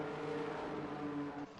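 Racing cars roar in a Silverstone racing video game, a steady, faint engine drone with a sustained tonal whine that holds briefly and then drops off, with no talking.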